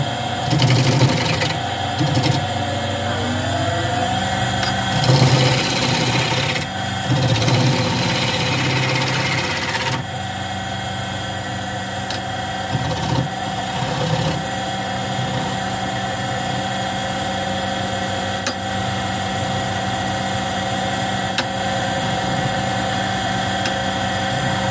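Wood turning on a lathe with a 5/8 bowl gouge cutting a stringy wood blank, a steady motor hum under loud, rough bursts of cutting noise in the first ten seconds, then a quieter, even whir.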